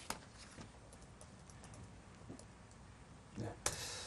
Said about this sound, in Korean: 이것을 제가 직접 타이핑을 좀 해야 되겠네요.